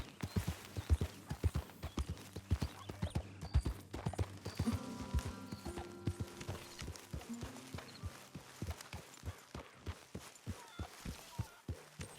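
Steady clip-clop of horse hooves walking at an even pace in the video game Red Dead Redemption 2, clear and close, with no talking.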